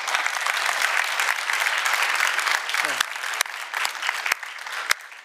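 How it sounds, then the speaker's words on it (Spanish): A church congregation claps at the close of a sermon, sustained applause that thins into scattered claps, with a voice speaking over part of it. "Si aprendiste algo, da un aplauso al Señor."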